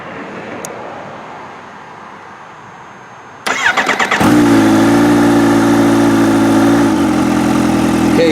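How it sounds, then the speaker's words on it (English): A Kawasaki Ninja H2 motorcycle starts up after a quiet pause, with a short stuttering crank before the engine catches and settles into a loud, steady idle close by, then drops slightly in pitch near the end. "So I'm gonna go turn on the bike now"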